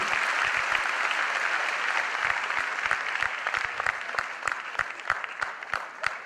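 Sustained applause from an audience at a Modicare business seminar, a dense steady wash of many hands clapping with sharp individual claps standing out, moderately loud and continuous without talk.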